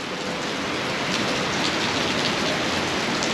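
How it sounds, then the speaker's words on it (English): Heavy rain pours down steadily, a dense continuous hiss of water drumming on surfaces, close and unbroken throughout. "the rain starts coming down hella hard"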